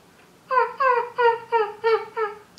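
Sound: voice imitating a puppy

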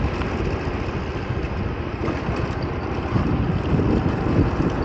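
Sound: Honda PCX 125cc scooter engine while riding

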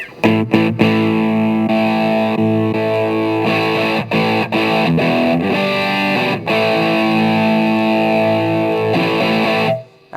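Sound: electric guitar amp distortion

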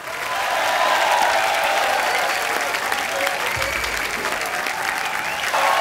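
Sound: audience applause

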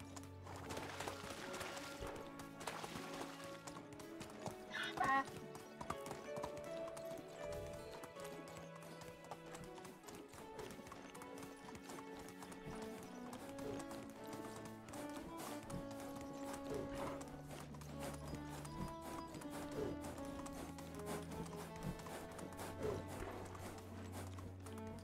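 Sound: horse galloping hoofbeats while riding, video game Medieval Dynasty

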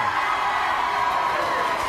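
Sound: studio audience cheering

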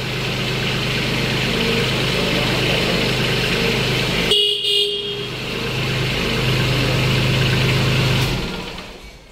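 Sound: Kubota tractor engine running

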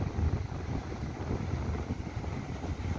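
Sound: strong wind at the beach

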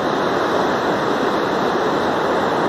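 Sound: flooded river water rushing

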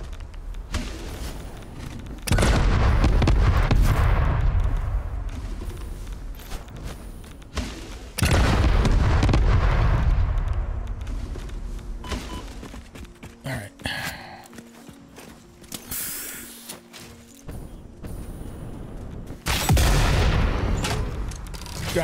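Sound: bomb explosions from enemies in video game Satisfactory

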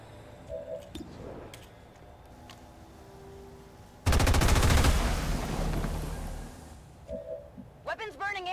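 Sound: gunfire from the video game XCOM 2

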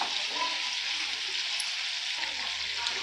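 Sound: chicken for maqlooba frying on low flame, being flipped

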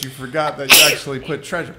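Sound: sneeze

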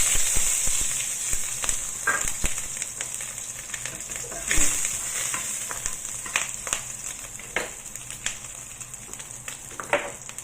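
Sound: dried sweet frying in oil in a hot pan

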